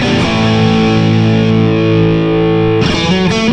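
Distorted electric guitar with the pickup in single coil mode, a thick sustained chord ringing loud and steady before a fresh strum near the end.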